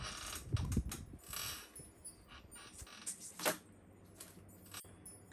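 Soft papery shuffling and light clicking of oracle cards being handled, with irregular rustles and taps, quiet and close.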